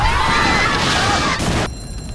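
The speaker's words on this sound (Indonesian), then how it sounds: "Umine kemudian tanpa ragu menghancurkan sekolah Amano dengan beberapa bom" Bombs blow up a school in an anime scene: loud, dense blasts and crashing debris roll on continuously, then cut abruptly into a quieter ringing tail.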